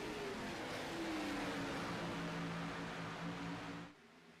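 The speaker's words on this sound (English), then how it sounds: "let's listen to these cars roar away here at Atlanta" Race cars at Atlanta Motor Speedway make a steady, dense roar with a falling engine pitch as they pass, loud and continuous before dropping off abruptly near the end, with no voices.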